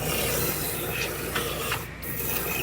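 Rust-proofing coating sprays from a 360-degree wand inside a bare-metal car body, a continuous close hiss and rasp that briefly dips before resuming.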